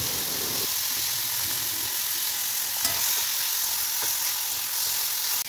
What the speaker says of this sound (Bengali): মৌরলা মাছটা চাপিয়ে দিলাম।